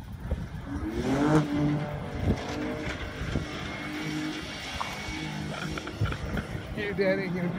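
Engine of a 2018 Ford Raptor truck revving and climbing through a gear shift while doing donuts, a loud rough roar rising and falling over about eight seconds, with people talking over it.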